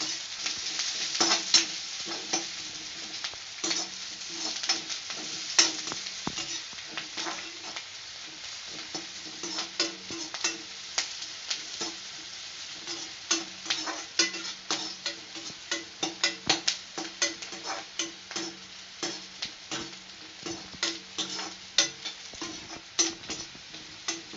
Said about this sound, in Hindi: और इसे थोड़ी देर के लिए मैं फ्राई करूंगी